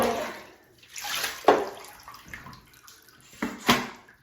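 Water splashes and pours over a large dog's back legs during a bath, in uneven bursts and gushes with brief quiet gaps between them.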